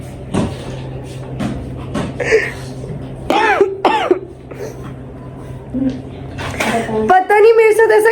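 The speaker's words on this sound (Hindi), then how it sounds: "जब मैं ब्लॉग बना रही होती तो मुझे एकदम से खांसी आने लग जाती है।" A woman coughs and clears her throat several times, close and loud, with talking in between during an indoor reel-shooting day.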